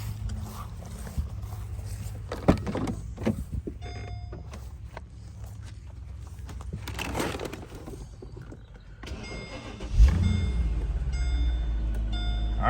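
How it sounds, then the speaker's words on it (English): A Mercedes SL engine cranks and catches around the ten-second mark, settling into a steady, fairly loud low idle after several seconds of quieter background clatter and handling noises. "let's start the car"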